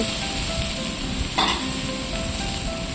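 Jackfruit seeds and five or six split green chilies fry in oil for a jute-leaf stir-fry. A loud continuous sizzle runs close up throughout, with one brief burst of stirring partway through and no talk.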